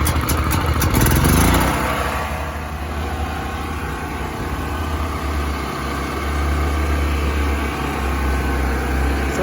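A Predator portable gasoline generator runs steadily after being started, with a brief louder clatter at startup, then a constant low engine hum with mild mechanical rattle, close by and moderately loud.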